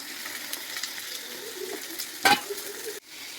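Mutton liver and raw mango frying in oil with onions in a pan, a steady close sizzle with scraping stirs and a sharp clatter near the end, no talking.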